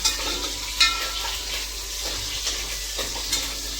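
Chopped onion and garlic fry in a pan for a village-style mutton head-and-trotters sambar, giving a steady close sizzle with a few light stirring clinks.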